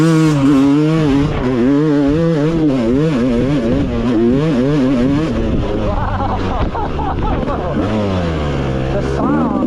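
A Yamaha YZ250X two-stroke dirt bike revs hard while being ridden, its close, loud engine note climbing and dropping through repeated throttle surges.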